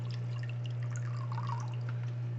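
A small spout in a fish tank setup, fed by a pumped water line, trickles and drips continuously at close range over a steady low pump hum.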